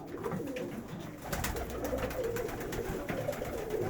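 Pigeons coo softly in a pigeon loft, repeated throaty calls rising and falling over a low background rustle, moderately close and continuous.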